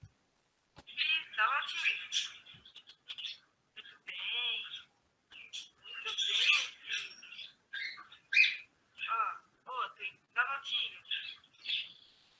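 Pet parakeets chirp and chatter in a room, bursts of bright, high, warbling calls coming in quick irregular runs with short quiet gaps between, close and clear.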